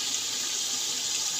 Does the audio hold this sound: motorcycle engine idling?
no